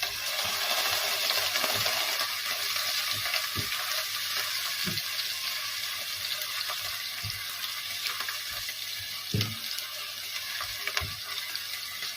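Onion frying in a pan, for a chicken with fideos dish, makes a steady close sizzle broken by a spoon's repeated clinks and taps against the pan, with no talking.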